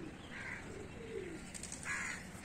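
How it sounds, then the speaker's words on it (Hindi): Pigeons and doves cooing outdoors alongside crows, with a few soft bird calls rising over steady background hiss, moderately close. "कबूतर।"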